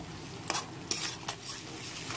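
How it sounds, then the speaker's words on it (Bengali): A spoon stirs yogurt mixed with water in a bowl, giving a few soft scraping and clinking strokes at an uneven pace, close and fairly quiet. "দইয়ের বাটিতে অল্প জল মিশিয়ে, টক দইটার মধ্যে অল্প জল মিশিয়ে একটু মিশিয়ে নিতে হবে"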